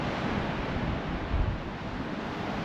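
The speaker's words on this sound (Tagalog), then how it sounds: "Ang lakas ng alon." Strong ocean waves breaking at Paraparaumo Beach in New Zealand, a loud continuous roar of surf with wind buffeting the microphone.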